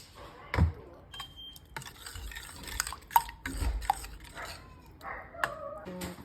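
Curd being stirred into cooled bajri soup in a pot, with scattered scraping and clinking of a spoon against the vessel, brief knocks and a sharp thump near the start, all fairly quiet and without speech.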